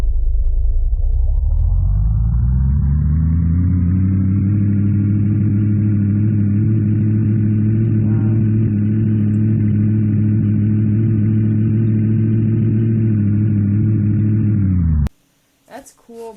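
In the video game Unturned, a 1950s-style roadster called the Ghost revs up from low and holds a steady, loud engine drone before cutting off abruptly, with a brief sound right after.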